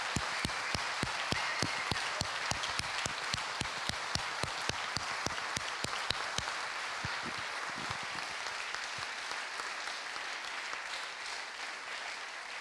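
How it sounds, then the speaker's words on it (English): Audience applause at a food film festival keynote: rhythmic, fairly faint clapping that starts crisp and regular, then thins into softer scattered clapping toward the end. "I want you to help me give them a big applause"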